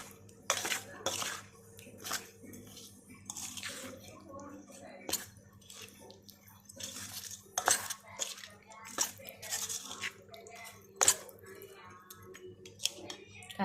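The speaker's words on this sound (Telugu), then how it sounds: "ఇట్లా మొత్తం చట్నీలో మొత్తం కలిపేసేయండి" Spoon mixing a garlic tempering into bitter gourd chutney, giving soft intermittent scrapes, clinks and wet squishes against a bowl, close and fairly quiet, with occasional talk between strokes.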